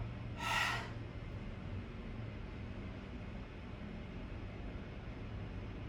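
A single forceful exhaled breath during a yoga exercise, a short airy rush close by near the start, then quiet room tone.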